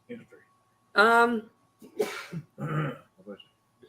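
A loud sneeze bursts out between stretches of people talking nearby, followed by more speech.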